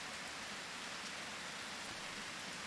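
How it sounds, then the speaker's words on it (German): Steady rainfall in the farming video game Harvest Moon, a soft, even hiss of falling rain with no break, fairly quiet and alone without talk. "Es regnet wieder."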